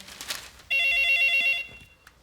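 A telephone bell rings once in a short electronic trill, clear and fairly close, against a quiet room, with faint voices before it.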